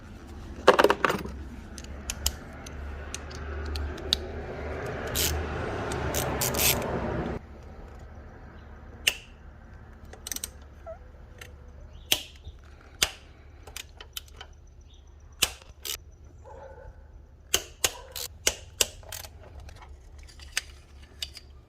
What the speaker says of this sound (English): got to remove these bolts to remove the throttle body